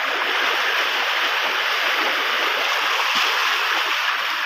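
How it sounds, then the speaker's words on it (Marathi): Forceful floodwater rushes after heavy rain, having washed out a road; a steady, loud, hissing roar of flowing water fills the whole stretch without pause. "पाणी कमी वाहता आणि पाण्यात फोर्स पण जास्त आहे"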